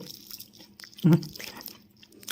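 Fried tukakako snack, crisp outside and soft inside, bitten up close: one loud crunch midway, with softer chewing and mouth sounds before and after.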